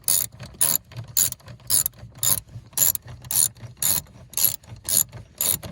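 Ratchet with a 10 mm socket turning a cargo hook bolt in a 2020 Subaru Outback, around a dozen rhythmic bursts of rapid clicking in steady back-and-forth strokes, close and clear.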